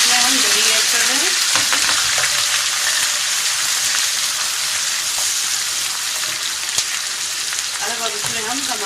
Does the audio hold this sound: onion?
yes